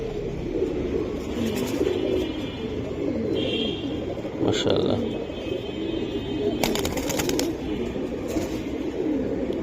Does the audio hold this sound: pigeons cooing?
yes